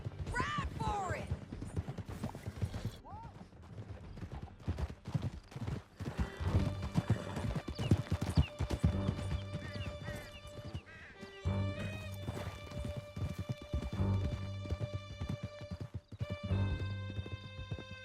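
Horses gallop in the video game Red Dead Redemption 2 with rapid, steady hoofbeats and a whinny, mixed with game music and other riding noise.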